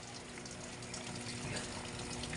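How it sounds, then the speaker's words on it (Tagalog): Water gushing into a Samsung 7.5 kg top-load washing machine as it fills, a steady rushing hiss close by, heard alone. "So, nagkarga na siya ng tubig."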